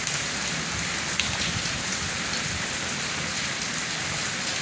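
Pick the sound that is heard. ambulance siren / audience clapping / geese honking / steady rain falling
steady rain falling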